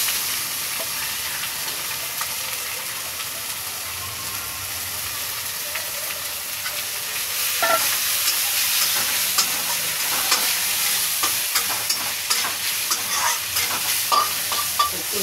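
Onion and ginger paste frying in a pan as it is stirred, a steady close sizzle with scraping strokes that grow louder and busier partway through; no talk.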